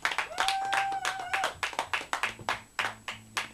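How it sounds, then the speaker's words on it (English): Audience clapping in a run of sharp, fairly steady hand claps, close and moderately loud, with a sustained whistle-like tone and some low hum beneath. "so that I can join in the clapping"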